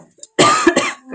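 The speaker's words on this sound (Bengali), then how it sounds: "কাশিও হচ্ছে, কি জানে সেজন্য হচ্ছে কাশি।" One person coughs on a cold, cloudy winter day in a village home, a single harsh close burst in two quick bumps after near silence.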